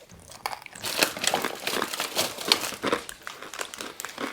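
A crunchy snack being chewed close up: dense, rapid crackling and crinkling crunches repeat steadily over a few seconds, with no voices.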